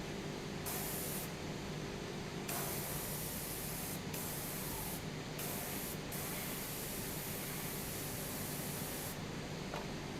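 A Gundam Marker airbrush sprays ink in a steady, close, continuous hiss that runs for the whole stretch. Its upper edge briefly cuts in and out as the flow shifts.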